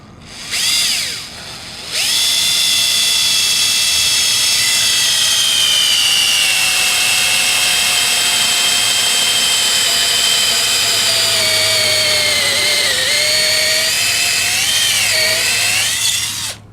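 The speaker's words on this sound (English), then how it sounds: "take your 3/8 inch drill bit and your drill and drill the hole where you've marked" A power drill with a 3/8 inch bit whines loudly and steadily for a long stretch, its pitch dipping slightly under load as it bores through a boat transom, with a brief start just before.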